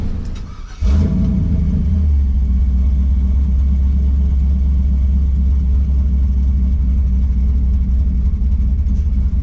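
A truck with a 5.3 engine and a Stage 4 build pulls away after a converter pressure adjustment, its low engine rumble swelling after a brief quiet start and then holding a steady, loud drone close by with no talking.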